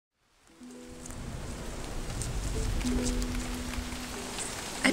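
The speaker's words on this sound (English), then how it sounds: "It's already starting to rain." Rain beginning to fall, a soft hiss of drops on surfaces fading in from silence and building gradually to a steady patter, with faint tonal sounds underneath.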